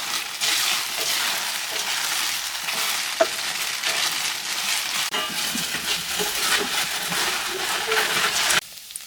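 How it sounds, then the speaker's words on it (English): Chicken pieces searing in a hot pan for kung pao chicken, a dense, continuous close sizzle like heavy rain that holds steady, then cuts off abruptly near the end. "So we are going to sear them for"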